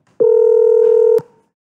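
Telephone call being dialed: a single loud, steady dialing tone holds for about a second, then cuts off with a click.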